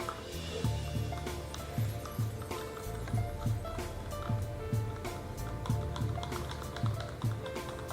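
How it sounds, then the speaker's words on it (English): Drops of white are stirred into a leather colour mixture, making a steady series of soft, rhythmic knocks and scrapes against the container, close and fairly quiet. "Stir that in real good."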